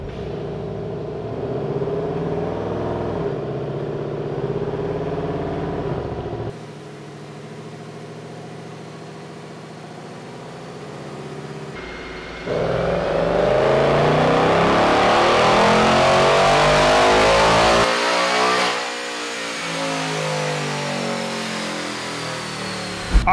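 A stock 2024 Ford Mustang GT with a 10R80 automatic on 93 octane fuel revs hard on a dyno, the engine note climbing loud and steady through a pull before easing off, with no talk over it.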